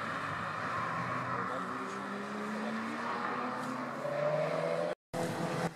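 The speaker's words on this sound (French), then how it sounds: "Une Clio 4 RS avec la ligne Akrapovic." Renault Clio 4 RS with an Akrapovic exhaust leaving the Magny-Cours circuit, engine note rising as it accelerates past up close, a sustained rasping tone with climbing pitch, briefly cut near the end.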